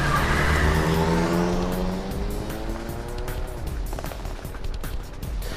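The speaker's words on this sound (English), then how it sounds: "Taxi lurched into motion, the engine quickly revving up to speed." A taxi in a video game lurches off with its engine revving, the rising whine climbing steadily in pitch along with a brief tire squeal, loud and close.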